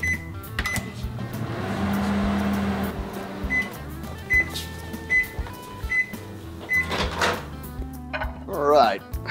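A microwave oven hums steadily while warming organic extra virgin pressed coconut oil until it is liquid, with a low drone broken by short beeps, door clunks and kitchen clatter, up close in a home kitchen.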